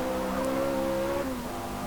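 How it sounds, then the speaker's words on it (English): Chevrolet Corvette Z06 from 2023, a 6.2-litre V8 sports car, driven in Forza Motorsport: a steady sustained engine drone with a held tone that shifts slightly partway through, loud and continuous with no talk. "I'm sure this engine noise is going to put off some people"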